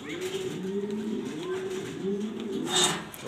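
A black Danish pigeon coos softly in a few low, drawn-out phrases close by, with a short bright clatter near the end.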